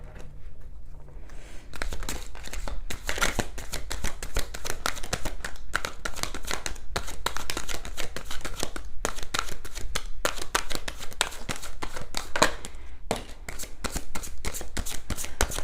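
Oracle cards being shuffled during a full moon tarot reading: brisk, steady riffling and flicking of the deck that runs for about fourteen seconds after a quiet start, close and alone.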